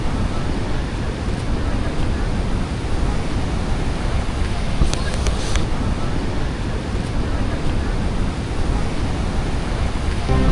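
Athirappilly waterfall on the Chalakudy river sends up a powerful, unbroken roar of falling water, loud and close throughout, with only faint brief tones near the middle.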